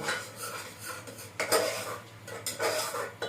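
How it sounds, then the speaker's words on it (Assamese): Ginger-garlic paste and chilli stirred in a pan with a metal spoon, with repeated close scraping and clinking strokes over a faint sizzle and no voices. "এতিয়া মই আকৌ লৰাই দিম, ভালকৈ লৰাব লাগিব।"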